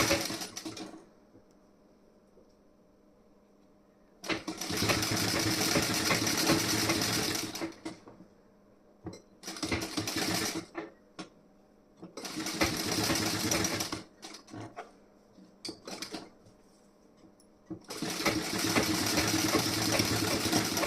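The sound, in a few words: sewing machine stitching blouse front part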